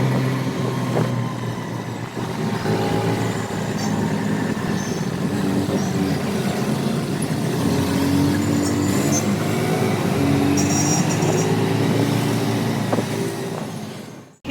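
An auto rickshaw rides through busy city traffic. Its engine rumble and the surrounding road noise stay steady and loud, with occasional higher tones like distant horns, then fade out at the end.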